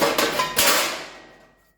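Sharp hammer blows strike a metal panel being shaped over a male and female die in a workshop, a couple of close ringing hits followed by a decaying metallic ring.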